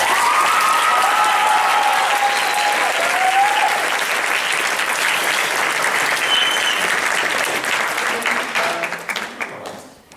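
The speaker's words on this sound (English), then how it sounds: "How about a round of applause?" Sustained applause from a large audience at a drama awards ceremony, loud and steady for most of the stretch before tapering off and fading near the end.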